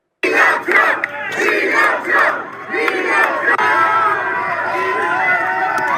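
A large crowd at a Trump rally shouts and chants loudly in rhythmic waves of massed voices, close and sustained, tapering into a steadier roar.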